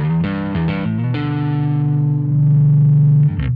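Bass guitar run through a Two Notes Genome 1.5 distortion with the blend control turned up, giving sustained fuzzy distorted bass notes, a few short plucks then a long ringing tone, loud and without speech.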